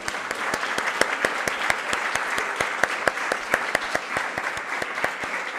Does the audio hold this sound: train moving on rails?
no